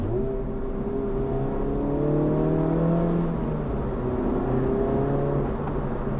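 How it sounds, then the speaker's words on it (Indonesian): A Honda Civic Type R in R+ mode plays a synthetic engine roar inside the cabin. The tone rises and falls smoothly as the car accelerates, steady and moderately loud. "jadi kerasa ada suara palsu gitu, bikin raungan, tapi bukan suara asli dari knalpotnya"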